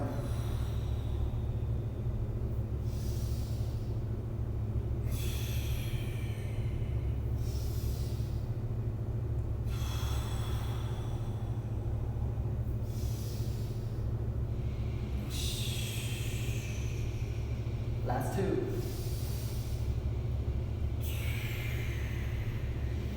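Slow, deep breaths during a stretching and joint-mobility session, with long airy inhales and exhales repeating every few seconds over a steady low background hum and no speech.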